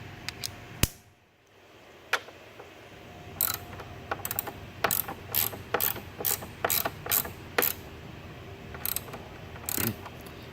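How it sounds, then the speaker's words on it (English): A ratchet tightening the screw on a car battery hold-down bracket in a Chevrolet Cruze, heard as a run of close, crisp mechanical clicking bursts after a short pause, with no talking. "Screw down this hold down bracket all the way."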